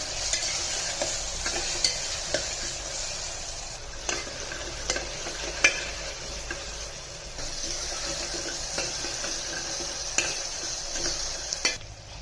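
Mutton curry with ginger-garlic paste sizzles in a pan for a Telangana-style dish, a continuous close frying hiss broken by intermittent scrapes and taps of a spoon mixing, with no voices.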